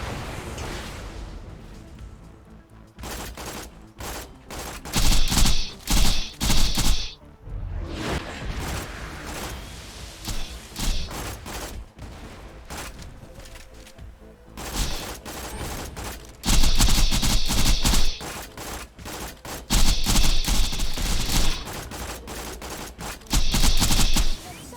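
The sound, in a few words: rockets and gunfire in a video game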